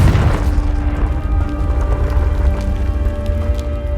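Spell blasts and explosions from the video game Hogwarts Legacy rumble as a loud, continuous low boom with a heavy, sustained roar and faint tonal hum, no clear separate hits.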